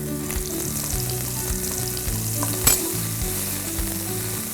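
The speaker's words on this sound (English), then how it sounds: "We'll saute this till the onions are translucent." Chopped onions sauté in a pan for an Indian mushroom tikka masala, a close, steady sizzle and crackle with occasional stirring scrapes.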